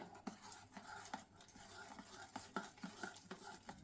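A spoon stirs salt and ground spice powders into tomato chutney, giving soft scraping swishes and light clinks against the bowl in an irregular rhythm. The sounds are close but quiet, with no voices.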